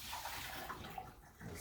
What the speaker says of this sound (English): I'm going to go ahead and dump the water out.